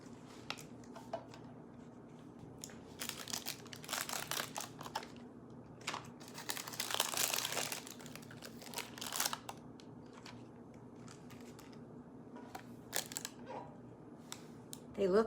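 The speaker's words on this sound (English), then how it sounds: "I'm just going to lift them out with the parchment paper." Parchment paper crinkles and rustles in irregular bursts as baked carnivore bread made with egg whites is lifted out of a pan, fairly close and quiet, with a louder crumpling stretch in the middle.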